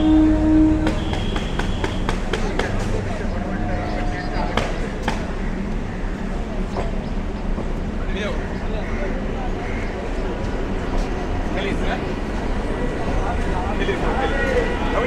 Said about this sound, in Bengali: আপনার বাঁদিকে 1 নম্বর লাইনে এখানে ট্রেন আসছে, সম্ভবত বারাসাত লোকাল, মাঝিরহাট বারাসাত।